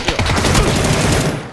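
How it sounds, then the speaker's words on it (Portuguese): Rapid gunfire in a video game comes as a dense burst of overlapping shots, loud and continuous for over a second before cutting off. "Levei tiro de longe, fica ligado aí."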